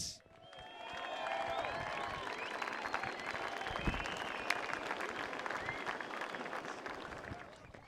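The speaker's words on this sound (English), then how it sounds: "Round of applause for Alejo Muniz." A beach crowd at the Ballito Pro surfing contest applauds the champion, sustained clapping and cheering that swells up and holds, with whistles and scattered voices in the mix.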